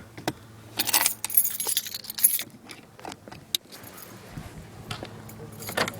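Car keys for a 2008 Lexus IS 250 jangle in bright, brief metallic bursts, close by, with quieter handling clicks and a low idle hum underneath.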